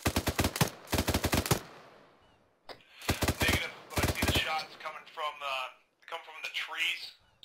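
Gunfire in the military video game ArmA 3: several rapid bursts of automatic shots crack out in quick succession near the start, followed by people talking over radio-style chatter.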